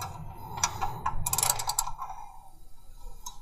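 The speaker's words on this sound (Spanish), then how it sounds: "Ponle la llave y vas a destornillar hacia la goma derecha." Ratchet wrench turning the oil drain nut on a car engine during an oil and filter change, a run of quick metallic clicks with a clustered burst in the middle, close and fairly quiet, no voices.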